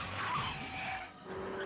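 In the Steins;Gate Elite game, a limousine barrels into an alleyway at terrific speed, tires squealing in a loud skid lasting over a second, with a busy engine roar beneath.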